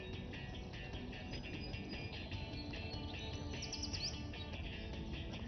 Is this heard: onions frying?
no